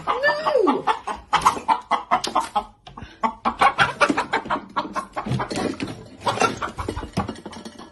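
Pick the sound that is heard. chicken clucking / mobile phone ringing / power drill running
chicken clucking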